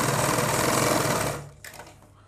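A sewing machine stitching fabric for men's underwear runs in a steady, loud whir for about a second and a half, then winds down and stops.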